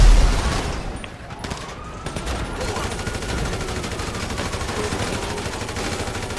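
Sustained automatic gunfire in the video game GTA Online, a dense, continuous rattle of rapid shots that stays loud and steady throughout, with a heavy burst at the start.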